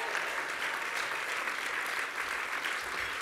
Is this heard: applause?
yes